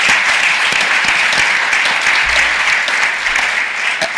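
An audience at a Waterloo Space Apps 2018 gathering breaks into loud, dense applause for the volunteers, a continuous roar of clapping with no gaps throughout.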